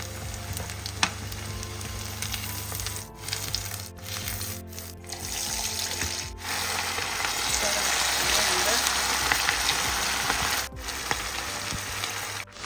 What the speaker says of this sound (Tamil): மீதி இருக்கிறத நம்ம போட்டு வறுக்கலாம்.